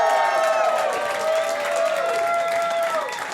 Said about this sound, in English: Big round of applause for your buddy and mine.